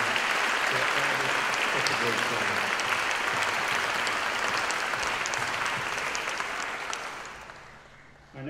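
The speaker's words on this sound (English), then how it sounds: "How about another round of applause to all the groups that you just heard" An audience applauds orchestra groups, string ensembles among them, with broad sustained clapping that holds steady before fading toward the end; a voice speaks briefly.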